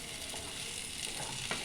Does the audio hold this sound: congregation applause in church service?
no